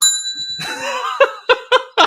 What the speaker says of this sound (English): Can you get the bell, my friend? I got the bell.